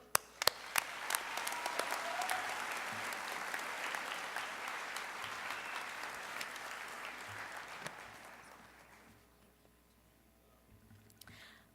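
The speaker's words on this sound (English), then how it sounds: "Let's give her another round of applause." A graduation audience bursts into sustained applause, a dense wash of many hands clapping that holds steady for about eight seconds before fading to a few scattered claps.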